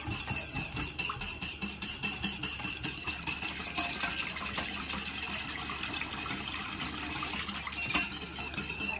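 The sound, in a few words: hand whisking vinaigrette of sugar, lemon juice and olive oil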